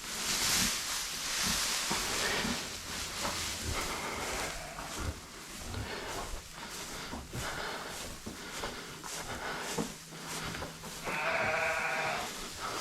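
Sheep on a ranch bleat repeatedly, close and fairly loud, against a steady rustling hiss of barn activity, with no talking.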